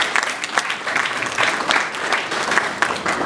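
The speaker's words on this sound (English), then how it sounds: "Can we please give him a round of applause?" Applause from an audience at an evening power-sector policy dialogue in Nigeria, dense steady clapping from many hands at close range, filling the whole stretch without speech.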